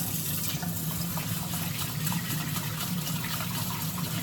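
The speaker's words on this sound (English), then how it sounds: "I wash my hands, of course, before I start all this" Tap water running steadily into a sink during handwashing before sashimi preparation, a constant close splashing rush with no pauses.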